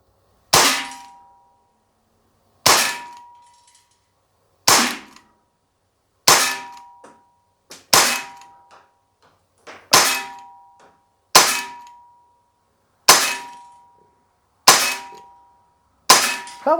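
Umarex Glock CO2 BB pistol firing: nine loud, sharp cracks spaced about two seconds apart, each with a metallic ring and quick decay, close by with silence between shots.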